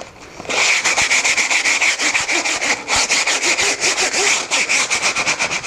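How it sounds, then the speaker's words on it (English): Sandpaper is rubbed lightly back and forth over a wooden axe-handle stool in a quick, steady rhythm of close, loud, raspy strokes with no pauses. "And then I might just give it a really kind of a light sanding over the whole piece."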